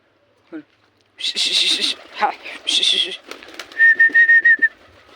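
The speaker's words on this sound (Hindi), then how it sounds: "देखो गाइस, मैंने कबूतर को दाना पानी कर दिया है" Three pigeons make soft calls and several bursts of flapping wings as they take off, with a person talking close by.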